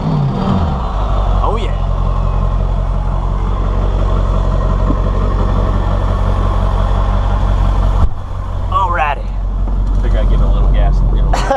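A Ford Excursion with a 7.3L PowerStroke diesel engine, on a lifted truck, idles steadily and loudly after a cold start, with a brief dip partway through as someone talks over it.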